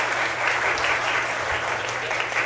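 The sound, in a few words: audience applause for political candidates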